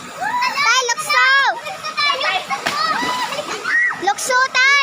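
A father jumps into a waterfall pool, and a splash bursts out amid excited children shouting and squealing nearby, with a second splashy burst near the end, all mixed with lively voices.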